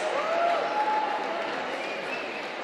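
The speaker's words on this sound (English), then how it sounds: "a round of applause once again for Miss Jordana Price" Sustained audience applause rolls through a hall at a Jewish community celebration of youth volunteering, a steady, fairly distant wash of many hands with faint voices above it.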